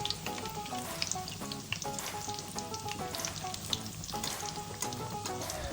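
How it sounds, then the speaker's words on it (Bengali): Chicken cheese lollipops deep frying in hot oil, a steady dense sizzle with bubbling crackle running throughout, close and continuous, with occasional clinks of a utensil turning the pieces. "এটাও ফ্রাই করে এটাকে এপিট উপিট করে হচ্ছে ফ্রাই করে নেব।"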